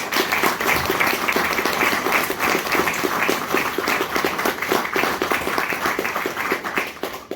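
An audience claps for a soloist with a hunting choir at a concert and album presentation, a full, lively round of applause with rhythmic clapping that holds steady and loud before easing off at the end.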